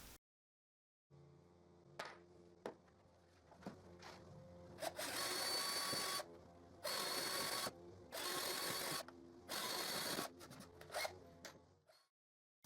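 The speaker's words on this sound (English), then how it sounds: "I will use a bigger drill bit to drill the boards" Power drill boring holes through pallet boards with a larger bit, several sustained loud whirring bursts of a few seconds each separated by short pauses and small clatters of handling, close by.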